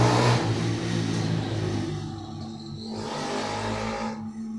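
Motorcycle with a loud sound system passing by outdoors, an engine roar and thumping music that are loudest at first and then fade as it moves away.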